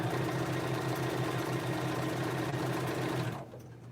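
A sewing machine runs fast and steadily while stitching quilt block pieces, giving a loud, close, even mechanical hum that stops abruptly near the end.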